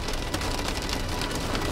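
Dense, steady pattering of hailstones striking a vehicle while driving through a hailstorm, a constant loud clatter with no pauses.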